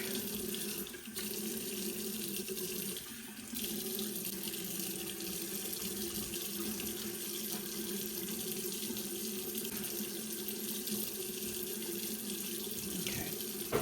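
Tap water runs steadily into a sink while a face is rinsed, a continuous close hiss and splash with no speech.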